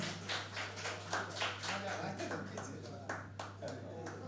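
An audience claps at a reality show launch, a run of quick, fairly sharp hand claps under a steady electrical hum, with voices talking over it.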